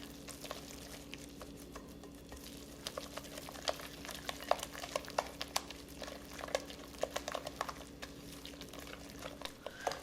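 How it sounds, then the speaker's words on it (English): Flour being stirred into hot liquid for churro dough, heard as faint, quiet scraping and soft clicks of a utensil against the pot, repeating irregularly over a low steady hum. "You're going to mix and incorporate all these ingredients here."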